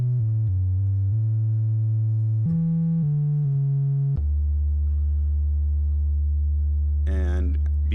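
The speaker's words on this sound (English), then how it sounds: "we're just hearing the sine wave from oscillator 1" A Novation Bass Station 2 synthesizer playing a pure sine wave from oscillator 1, a series of clean stepped tones that end on one long sustained low note, followed by a brief wobbling sound at the end.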